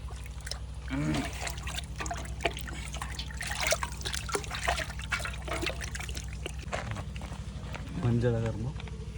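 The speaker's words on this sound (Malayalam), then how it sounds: "ഇനി കൂടി നല്ല വെള്ളത്തിൽ ഒന്ന് മുക്കി വൃത്തിയായിട്ട് കഴുകിയിട്ട് എടുക്കാം" Raw chicken pieces are rinsed in a vessel of water: nearby trickling, dripping and sloshing recur through the clip while a voice talks at moments.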